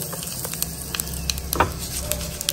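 Byadgi chilli and curry leaves sizzling in hot oil for a tempering with mustard seeds, a steady close hiss with occasional small pops and a light stir.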